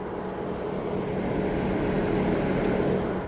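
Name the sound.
Audi RS6 Avant engine cooling fans running after shutdown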